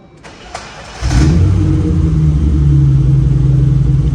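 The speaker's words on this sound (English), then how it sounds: "You know that sound when you put on the original key." BMW 325 engine started with its original key: a few faint clicks, then the engine cranks and catches, settling into a loud, steady rumbling idle close by.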